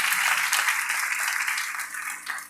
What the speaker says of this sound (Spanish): El aplauso más fuerte es para nuestro Señor Jesucristo.